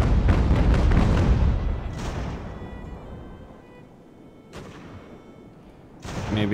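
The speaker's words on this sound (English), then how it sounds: "Let's try the chain shot here." Cannon fire from a sailing warship loading chain shot in Ultimate Admiral: Age of Sail, a loud booming volley at first that rumbles and fades, then more distant thuds of shots and a final heavy blast.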